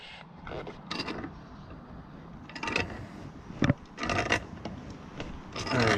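Knipex Cobra 10-inch water pump pliers clamp down and tighten their grip, with close rubbing, scraping and creaking bursts of metal jaws working against a part, plus one sharp click.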